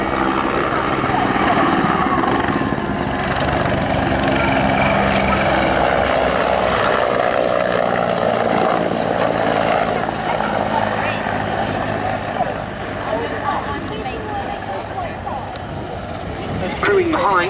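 A military helicopter flies at the Duxford Battle of Britain air show, its steady loud rotor and engine roar holding throughout under a public-address commentary voice.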